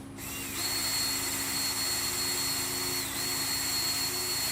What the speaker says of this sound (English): just hold it on there while you're running the drill